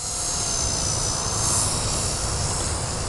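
A small V120D02S-Pro RC helicopter flying 3D rolls gives a continuous high-pitched rotor and motor whine with a broad airy roar, steady and fairly loud throughout, no talking.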